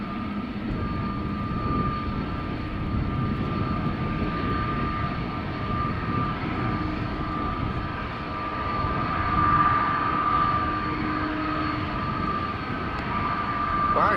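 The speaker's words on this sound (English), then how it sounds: "Delta Airlines flight 179 to Portland, Oregon is lined up, turning and burning" A Delta Airlines jet lined up for takeoff at Amsterdam Schiphol, its engines a loud steady roar with a sustained whine that swells toward the end, heard up close with no speech.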